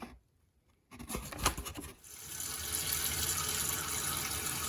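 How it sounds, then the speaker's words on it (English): Well water runs straight from a kitchen tap into a pot for homebrewing beer, a close, steady rushing splash that starts after a brief scrape and keeps going. "It's well water, so I'm just gonna use it straight from the tap."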